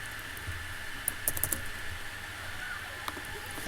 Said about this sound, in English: So most people, they'll just type in device